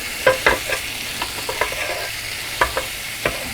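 Sausages sizzle in a CalmDo multicooker, a soft steady frying hiss punctuated by several clear clicks and knocks as they are rolled around the pot, with no talking.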